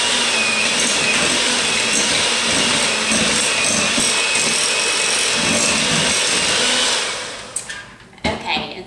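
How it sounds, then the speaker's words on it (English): Electric mixer whirring steadily as it beats cream cheese to soften it for a pina colada pie, a loud continuous motor drone that cuts off near the end with a few clatters. "put the cream cheese in and just mix that up just to get it softened"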